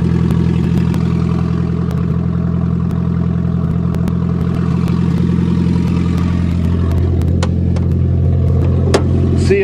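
An old car engine fitted with a makeshift exhaust runs at a steady, loud idle, a constant low rumble with a few faint clicks and knocks near the end and no speech.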